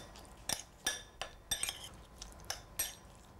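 Chives and very finely chopped shallot are mixed in a bowl, with about eight crisp utensil clinks against the bowl in an uneven rhythm, close and fairly quiet.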